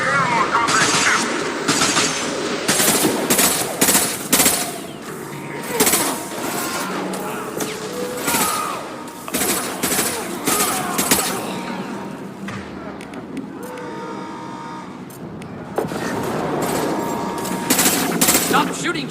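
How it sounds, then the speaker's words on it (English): Gunfire in the Mass Effect 2 video game aboard a prison ship, with rapid bursts of weapon fire, overlapping shots and impacts, and brief pauses between them, mixed with voices and combat effects. "Stop shooting, Shepard!"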